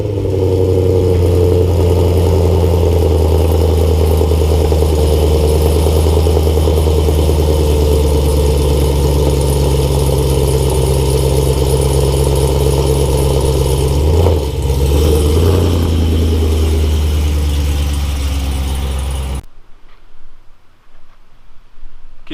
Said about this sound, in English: So this is actually going to be the first totally cold start with the catless mid pipes.